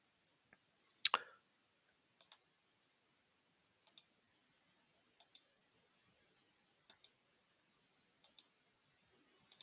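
Sharp, quiet computer mouse clicks, one louder double click near the start followed by sparse single and paired clicks spaced a second or two apart, with no talk.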